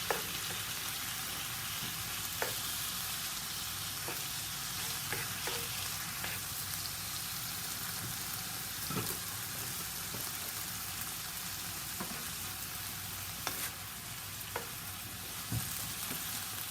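Roughly chopped Serrano pepper sizzling in hot oil in a pan, a steady dense frying hiss with occasional scraping clicks as it is stirred, close and continuous for the whole stretch.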